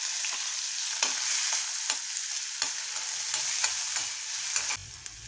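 Chopped onion sizzles in hot oil in a pan with browned garlic while being cooked for prawn Maggi noodles. A steady close frying hiss runs throughout, with repeated sharp scraping strokes of stirring.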